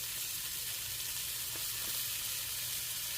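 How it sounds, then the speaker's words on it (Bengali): Garlic sizzling steadily in a hot pan as it starts to fry, a continuous broadband hiss with no talk. "প্রথমে গার্লিকটা একটু কয়েক সেকেন্ড আর কি, 30 সেকেন্ডের মতো একটু ভেজে নিব ফার্স্ট"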